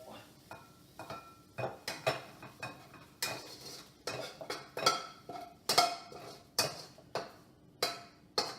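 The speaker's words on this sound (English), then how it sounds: "Mix it right in the bowl." Fried rice being mixed in a bowl, with a series of sharp clinks and scrapes of a utensil against the bowl coming in irregular bursts, close and fairly loud, with no talk.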